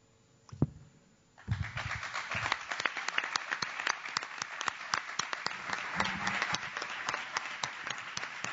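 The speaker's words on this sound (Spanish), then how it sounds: "Agradecemos con este fuerte aplauso" Audience applause closing a panel session at an education conference, a burst of clapping starting after a brief quiet moment and continuing steadily as dense overlapping claps.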